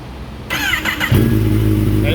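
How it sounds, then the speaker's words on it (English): A Kawasaki ZX-10 sport motorcycle cranks weakly on a jump-started battery, then catches and settles into a loud, steady, close idle as people talk over it. "we jump started the battery real quick to make sure that the bike still even starts"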